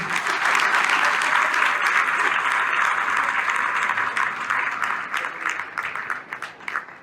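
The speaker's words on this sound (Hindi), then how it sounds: "एक बार जोरदार तालियां राखी जी के लिए।" Loud, sustained applause from a crowd at an RCM achievement ceremony honoring Rakhi ji, a thick wash of clapping that holds steady and then thins into scattered claps near the end.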